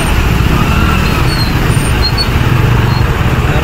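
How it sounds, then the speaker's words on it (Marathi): Heavy road traffic streams past close by during a World Tribal Day gathering in Peth, a loud, continuous engine rumble and roadway hiss with no breaks and no voices. "फुल ट्रॅफिक आहे बघा."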